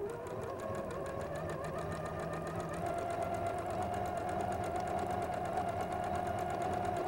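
A sewing machine runs steadily, stitching through fabric with a fast, even mechanical whir and needle clatter, close up.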